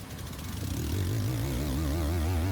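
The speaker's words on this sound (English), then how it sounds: "Customer came in complaining about their air vents sounding like a Spitfire airplane." A car's air vents give a low, wavering drone with a pulsing, propeller-like throb that swells in and holds steady, rising and falling slightly in pitch.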